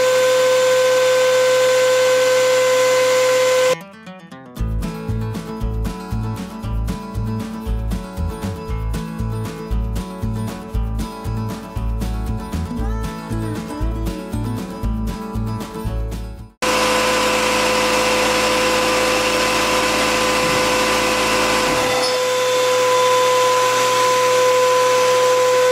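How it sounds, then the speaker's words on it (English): A shop air compressor starts up and runs loudly with a steady, pulsing motor chug for about twelve seconds, then cuts off abruptly, leaving a quieter tonal hum behind during an abandoned 1956 Chevy build. "let's fire up the air compressor and please the neighbors"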